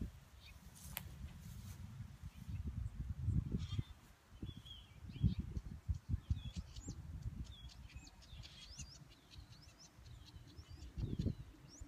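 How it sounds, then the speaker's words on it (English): Birds chirping and calling on a spring morning in a garden, small scattered tweets against low rumbling handling noise and thumps, fairly faint and irregular throughout. "Birds are out this morning."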